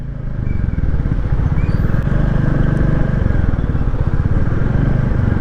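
Motorcycle engine running steadily and close during a ride in Meghalaya, India, a continuous low rumble with constant loud drone throughout and no clear talk.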